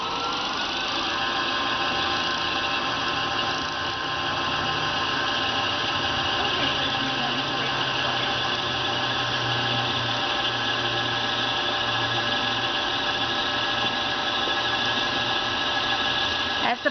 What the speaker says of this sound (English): I will hit the start button and it will wind the bobbin